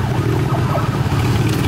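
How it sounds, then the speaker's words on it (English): Police motorcycle patrol siren passing in street traffic, a steady loud wail over the low rumble of road vehicles, heard close with no talking. "Oh, that's the Popo."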